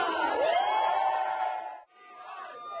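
A large crowd roars and cheers as Elizabeth Warren arrives at a packed campaign rally in Des Moines, Iowa, with a loud, sustained wall of voices and one rising whoop, then easing slightly toward the end.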